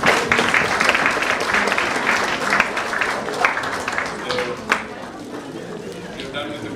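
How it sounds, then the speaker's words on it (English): An audience at a Telugu entrepreneurs' association event claps in a dense burst of applause that gradually thins and fades, with some crowd chatter underneath. "I request all of you to give a big round of applause to them"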